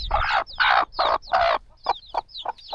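A hen clucks close by in a rural yard in Bangladesh, a rapid run of sharp, rhythmic calls, the first few louder and longer, the rest shorter and quicker.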